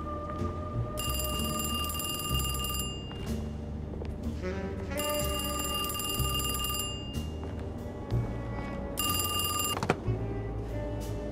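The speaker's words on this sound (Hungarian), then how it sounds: "Hol a telefon? Kint az irodában?" An old-fashioned telephone in the Alone in the Dark video game rings in three long electronic bursts with pauses between, loud over a low droning game soundtrack.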